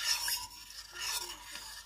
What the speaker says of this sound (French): Là, je vais mélanger mon miel avec les jus de citron et de l'eau.